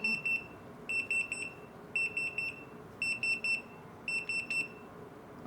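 A Retekess TD173 pager system sounds its beep prompt in repeated bursts of rapid high electronic beeps, about once a second, faint against a low background hum, with no one speaking.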